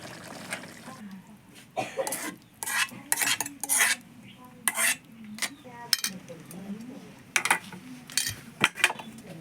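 A spoon scrapes and clinks against a pot of Maggi noodles on a gas stove in irregular bursts, with a steady low burner hum and someone talking underneath.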